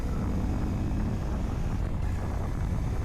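A 2023 Honda Monkey motorcycle engine held at full throttle through turns, a steady loud drone buried in heavy wind buffeting that runs unbroken throughout.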